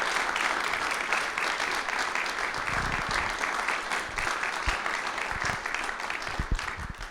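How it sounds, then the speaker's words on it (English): Sustained applause fills an auditorium as an audience claps for nine young student pitchers at a youth idea-pitch competition, a dense, even wash of clapping throughout with no talk over it. "would you please give a rousing second round of applause for all 9 of these amazing students"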